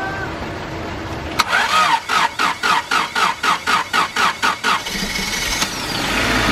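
A 2008 Lexus IS250 engine cranks with a rapid rhythmic starter whir for several seconds, then catches and settles into a steady idle, close and loud.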